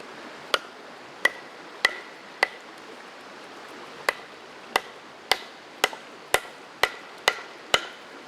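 A Bushmaster Bushcraft Explorer knife chops into hardwood, giving about a dozen sharp, crisp thwacks at uneven intervals, close by and clear against a quiet outdoor background.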